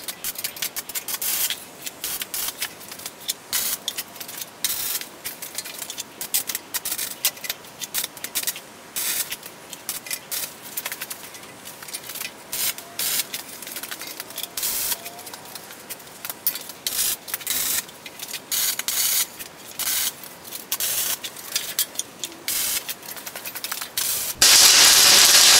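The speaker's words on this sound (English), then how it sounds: "and I'm gonna get to welding." Welding on a cross piece of a small dump trailer frame, a steady loud crackling sizzle with constant spitting pops that runs without a break for the whole stretch, with no talking.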